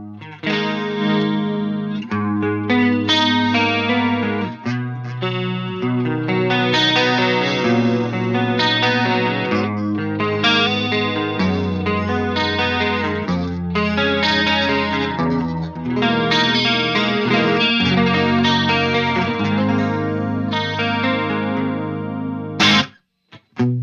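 Electric guitar played through an ENGL Powerball II amplifier, a steady stream of chords and riffs that is loud and continuous for about 23 seconds, with chorus-like effects and distortion, ending abruptly.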